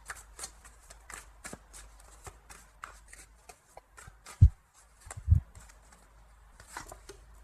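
Tarot cards shuffled by hand for another draw in a reading, a quick series of soft riffling flicks and taps, close and fairly quiet, with a couple of heavier low thumps midway.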